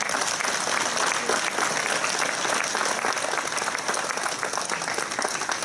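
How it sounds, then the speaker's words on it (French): Audience applause fills a French New Year's greetings ceremony in Tarbes, a dense, steady clapping of many hands held at an even level throughout. "On peut applaudir tous et ça."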